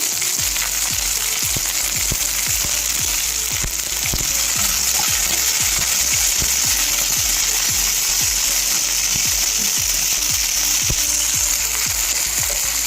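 Sliced onion, green chillies and curry leaves sizzle steadily in hot oil in a pan, a constant close frying hiss broken by regular scraping stirs of a spatula, with no voices.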